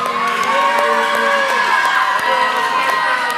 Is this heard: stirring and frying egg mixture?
no